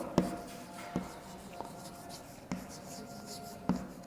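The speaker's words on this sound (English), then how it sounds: "So I am going to write the second rule about that." A teacher writes on a classroom board during an English grammar lesson: scattered faint taps and scratchy strokes, roughly half a dozen sharp contacts spread over four seconds, with no talking.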